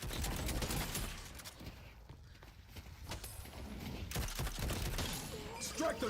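Gunfire from the hero shooter Deadlock arrives in dense, rapid bursts among busy game noise. The shots are loud at the start, fade briefly in the middle and pick up again toward the end.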